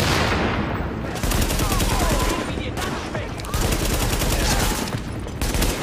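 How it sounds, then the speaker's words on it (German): Rapid automatic gunfire crackles loudly and continuously through a firefight in the video game The Division on PS4, with bursts that stop and restart several times across six seconds. "So, werfen wir eine Granate."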